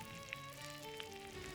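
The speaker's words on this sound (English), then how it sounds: "So now we're gonna fry these up in a pan of hot butter." Oysters fry in a pan of hot butter with a steady, even sizzle and a couple of faint pops, with no talking.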